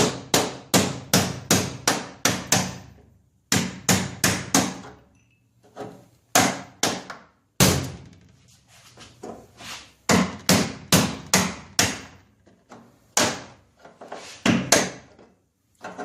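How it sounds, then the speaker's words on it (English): A chisel hammered to knock rusty parts off a Boyertown step van's ramp door, with loud close metallic blows in quick bursts of several strikes separated by short pauses. "And we'll just beat them off there with a chisel."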